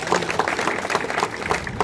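Audience clapping at an outdoor village rally in Jodhpuria, a steady dense patter of many hands lasting a couple of seconds, moderately loud with no talk over it.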